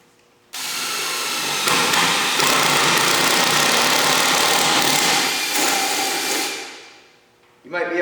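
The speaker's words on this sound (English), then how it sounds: "now I have my paddle bit in and I'm going to drill a hole right here in the front of this piece of wood" A corded power drill fitted with a paddle bit bores a hole into a piece of wood, a loud, steady high-pitched whine held for about six seconds before winding down, with a brief burst of motor again at the end.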